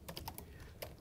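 Quick, light keystrokes on a computer keyboard while entering code, several separate taps spread across a second at close range with no voices.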